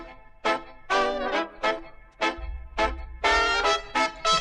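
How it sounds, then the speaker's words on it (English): Isolated trumpet and clarinet melody stem separated from a mono song, a run of short and sustained brassy and reedy notes in a lively phrasing, close and clear with no other instruments or talk. "the main melodic component of the tune, which is the trumpet and the clarinet"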